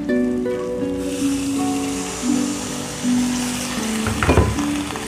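Water is poured into a sizzling spiced fish curry in a pan, setting off loud frying hiss and bubbling with stirring clatter and a burst of splashing near the end.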